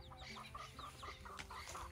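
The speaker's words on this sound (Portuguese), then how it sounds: "Só tem essas galinhas aqui agora, ó." Backyard chickens on a rural farm cluck and murmur continuously at moderate distance, overlapping calls forming a busy, steady chatter.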